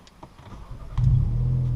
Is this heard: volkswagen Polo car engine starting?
yes